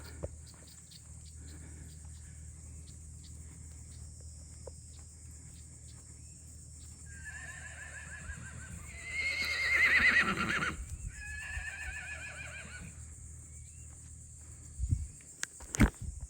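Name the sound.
horse neighing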